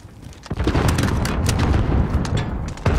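Grenade explosion in Call of Duty: Modern Warfare, a sudden loud boom followed by sustained rumbling debris and crackling, then another sharp hit near the end.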